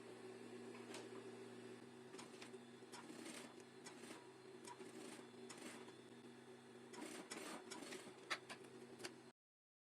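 A sewing machine runs a line of stitching over printed fabric for a kitchen set, a steady mechanical hum with faint ticking clicks, moderately quiet, running without pause until it stops abruptly near the end.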